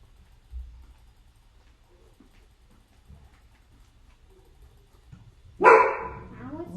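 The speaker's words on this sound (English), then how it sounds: "Oh dear, my doggy's being a bit naughty." A pet dog lets out one loud, close bark near the end, after a long, quiet stretch of faint room noise and soft rustling while someone draws.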